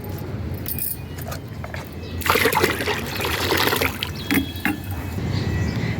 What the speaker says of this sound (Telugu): ఇప్పుడు నీళ్ళు కలుపుకుందాం ఇందులో